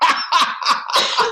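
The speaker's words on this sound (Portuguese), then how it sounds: "Vou tossir." A person coughs four or five times in quick succession, loud and close, each a short harsh burst.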